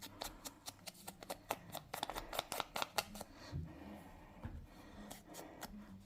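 A cut-up washing-up sponge dabs ink from an ink pad onto paper edges, making a quick series of faint, soft tapping and brushing strokes close by.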